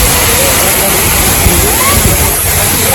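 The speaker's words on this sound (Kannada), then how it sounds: "ಹೆಂಗೈತಿ ಮಸ್ತ್ ಐತಿ ಫಾಲ್ಸ ನೋಡ್ರಿ" Waterfall roaring as a loud, steady broadband rush of falling water that fills the whole clip without letup, with voices talking faintly underneath.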